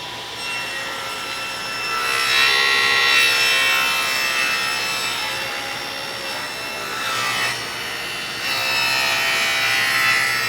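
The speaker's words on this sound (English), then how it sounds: "Put the piece in and start cutting." A saw cuts through a wooden piece for an Arts & Crafts Limbert-style lamp table, held in a jig, giving a loud rasping, whining cut that swells and eases in several passes with no talk.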